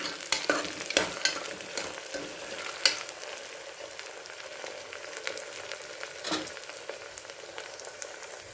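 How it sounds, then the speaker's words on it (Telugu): Potato and onion fry together in a pan with a soft, continuous sizzle, broken by a few scraping stirs and spoon clinks close by. "అంటే ఉల్లిపాయతో పాటు ఈ బంగాళదుంప కూడా వేగిద్దండి."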